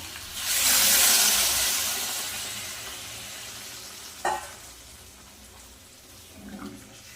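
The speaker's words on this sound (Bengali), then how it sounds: "আলু আর পেঁপে কিন্তু ভালোভাবে সিদ্ধ হয়ে গেছে দিয়ে দেবো গরম জল" Hot water is poured into a pan of boiled potato and papaya, a loud hissing rush that swells at once and then slowly fades, followed by a sharp clink and a softer bubbling stir near the end.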